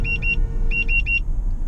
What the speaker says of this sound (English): The collision alarm turned on, obviously